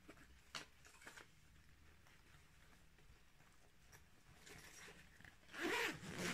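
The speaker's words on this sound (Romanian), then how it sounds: "Este cu un fermoar." A zipper on a small fabric cosmetic bag opens in a quiet room, with a couple of faint early pulls followed by a loud, close rasping zip near the end.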